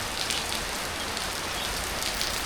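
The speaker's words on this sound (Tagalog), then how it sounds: "Biglang buhos yung ulan, ano?" Sudden heavy rain pouring down, a dense, constant hiss of drops drumming on surfaces, loud and unbroken, with no voices.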